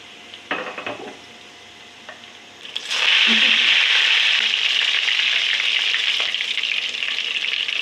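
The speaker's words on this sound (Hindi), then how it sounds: "अब इसका मज़ेदार सा तड़का तैयार करेंगे।" A few light clatters, then a sudden loud sizzle as spices and dried red chillies hit hot oil for a lentil tempering, settling into a steady, crackling fry that continues to the end.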